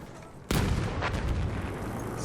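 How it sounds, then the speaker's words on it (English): A tank cannon fires in the Battlefield 1 video game, one loud, close boom that then rumbles and decays over steady battlefield noise. "It's a tank."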